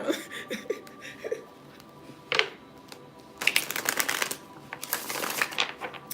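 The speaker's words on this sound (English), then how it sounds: "I just shuffled these cards all again" Tarot cards are shuffled in quick riffling bursts, close and fairly quiet, with short pauses between bursts and a faint soft chuckle early on.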